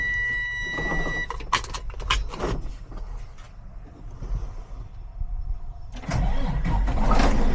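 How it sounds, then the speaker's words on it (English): A truck tractor's diesel engine cranks and catches in the cab after the trailer is uncoupled, then settles into a loud, steady idle that rises sharply near the end over earlier rustling and clicks. "Start our tractor."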